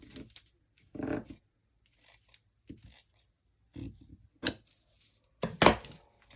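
Heavy scissors are picked up and snip through paper at a crafting table, a handful of separate crunchy cuts and clunks spaced apart with quiet gaps between them, close and moderately loud.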